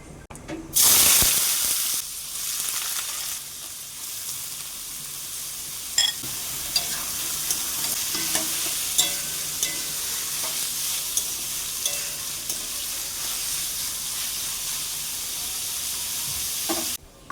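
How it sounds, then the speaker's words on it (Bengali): A dried red chili and cumin seeds hit hot oil in a wok, bursting into a loud, dense sizzle that settles into a steady crackle with occasional pops and clicks, with no talk. "তাই এখন তেলের উপর দিয়ে দিলাম একটি শুকনো লঙ্কা আর একটু জিরে"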